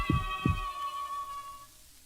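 Two deep thumps of a heartbeat sound effect in a slow lub-dub, set against a sustained tonal hum that fades away, no voices.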